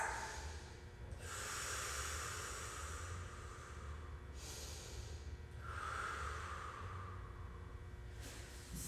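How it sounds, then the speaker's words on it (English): Slow, deep breaths during a floor stretch: long airy inhales and exhales rise and fall in a steady rhythm over about nine seconds, close and fairly soft, with no talking. "We're going to take 2 breaths."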